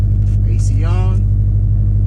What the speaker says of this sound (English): Let the car warm up for a second. I mean, the car sounds great